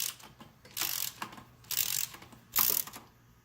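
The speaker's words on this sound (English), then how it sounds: "Then we're going to go back and properly tighten all of the screws in this assembly." A ratchet tool tightening screws on a motorcycle engine guard bar assembly for a BMW R1250RT, giving three close bursts of quick clicking with short pauses between them.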